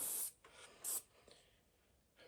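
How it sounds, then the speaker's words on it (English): FP10 CLP Elite gun lubricant sprays from an aerosol can while a Ruger 10/22 rifle is being cleaned, with three short hissing bursts: two close together, then a pause and a third. "So we're going to use the FP10 CLP Elite in an aerosol form."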